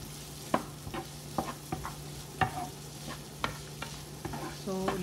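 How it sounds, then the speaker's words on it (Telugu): Sliced onions fry in a pan, a soft steady sizzle broken by irregular scraping stirs of a spatula, close and fairly quiet with no talking. "సో ఉల్లిపాయలు కలర్ మారేంత వరకు వేపించాలి"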